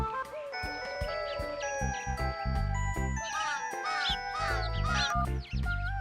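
A cartoon crow caws in a few short, bright calls mixed with jingling, tinkling musical effects and swooping tones, all close and clear in a lively animated scene.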